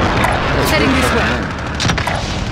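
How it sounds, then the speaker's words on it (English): Gunfire in Call of Duty Warzone Plunder mode, a continuous barrage of shots and booms packed tightly together under a player's shouted voice chat. "Taking fire over here!"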